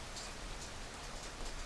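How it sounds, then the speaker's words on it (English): Rain beats down steadily on buildings as an even, quiet hiss of dense drops that continues without pause. "The rain beats down on a corner building, as it does on all buildings."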